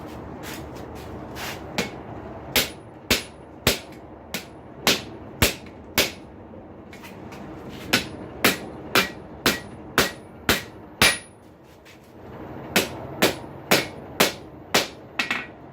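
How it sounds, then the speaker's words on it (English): Bent steel rail spike struck on an anvil, with a long series of sharp, ringing hammer blows landing in quick rhythmic bursts separated by brief pauses, loud and close. "I'm going to go back to the anvil with it and try not to break it off"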